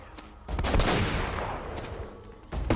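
Heavy gunfire erupts in Uncharted: Drake's Fortune as a dense, loud volley of overlapping shots that rumbles on for about two seconds, with sharper cracks at the edges.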